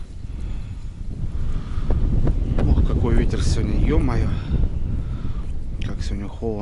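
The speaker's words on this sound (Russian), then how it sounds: "Ох, какой ветер сегодня" Heavy wind on a riverbank buffets the microphone in a constant low roar, with people talking intermittently beneath the rush.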